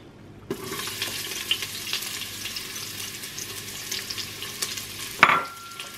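Red onion hits a hot pan with a sudden hiss near the start, then sizzles and fries steadily, with a few scrapes and a sharp clatter near the end.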